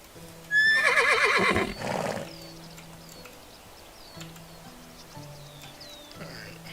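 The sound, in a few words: horse neighing in the video game Medieval Dynasty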